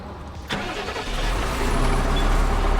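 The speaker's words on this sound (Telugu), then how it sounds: "ఒకసారి వెహికల్ స్టార్ట్ చేసిన తర్వాత ఇంజిన్ సౌండ్ అయితే ఒకసారి వినండి" Tata Signa 4923.S tractor-trailer truck with 590,000 km on it: a sharp starter crank, then the diesel engine catching and settling into a loud, steady low rumble close by.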